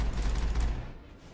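A short burst of gunfire cracks in the Mass Effect video game, a loud low rattle of several shots that fades out within about a second, with no talk.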